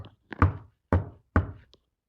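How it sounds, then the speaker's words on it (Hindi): Three dull knocks on a bus window, close and distinct, followed by a faint tap, with no talking. "एक ठक ठक ठक करके आवाज़ हुई, जैसे कोई बाहर से थपथपा रहा हो।"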